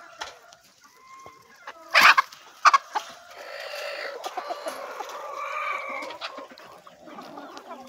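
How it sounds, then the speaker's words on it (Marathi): Free-range village chickens roaming an open field cluck in short, scattered bursts. One louder squawking outburst stands out above a quiet, low background of softer clucks. "आपण गावरान कुक्कुटपालन करत आहोत आणि हे बघू शकता तुम्ही, आपले गावरान पक्षी आहेत"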